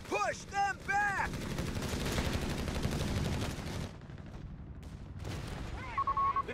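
Gunfire rattles through a battle on the Italian beach landing map of the strategy game Company of Heroes 3: dense bursts of shots and rumbling combat fill the middle stretch, with clipped radio voices talking at the start and close.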